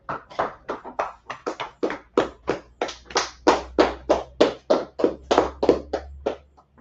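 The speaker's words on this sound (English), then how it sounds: "clap it up" A small gathering claps along in a steady, even rhythm, around twenty distinct hand claps in a row at moderate distance, fading out at the end.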